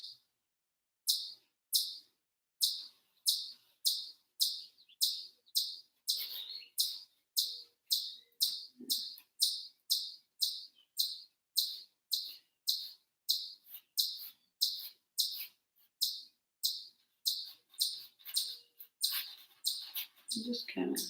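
Birds chirp outdoors near Whipple Dam State Park, a fast, steady run of bright, evenly spaced chirps repeating dozens of times, loud and close, with no talk over them.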